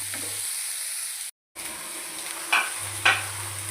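Chopped green chillies and masala ingredients sauté in a pan for paneer masala, giving a steady sizzling hiss, a brief dropout, and two sharp stirring scrapes near the end.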